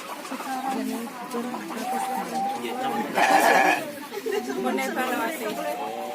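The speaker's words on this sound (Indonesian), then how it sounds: "Ayam." Chickens cluck and chatter at a village in Dusun Sambeng, Wonogiri, busy and close, with a burst of sharper calls midway, while people talk throughout.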